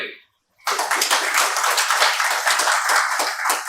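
An audience claps in a sudden, dense burst of applause that starts after a brief silence and holds steady at close range for about three seconds.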